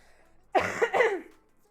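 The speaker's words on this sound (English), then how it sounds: "I think I'm shouting, which is why I'm coughing" A single close, harsh cough with a double burst, in an otherwise quiet room.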